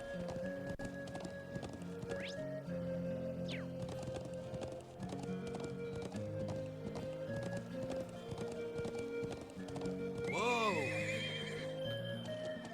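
Horse hooves clip-clopping steadily in The Legend of Heroes: Trails of Cold Steel, with a loud whinny near the end over a constant musical drone.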